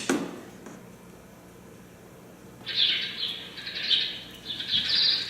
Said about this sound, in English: those chirping sparrows are as loud as can be